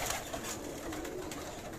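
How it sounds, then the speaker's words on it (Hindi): Pigeons, a prized female among Karachi high-flyer birds, coo softly in a steady, continuous murmur under faint background noise, with no voices heard. "ये डब वाली कबूतरी माशाल्लाह माशाल्लाह माशाल्लाह, क्या बात है।"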